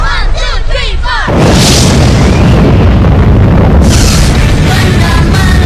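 A bomb explosion from a documentary about Hiroshima follows a short musical passage. A deep, roaring blast then rumbles on loudly and continuously to the end.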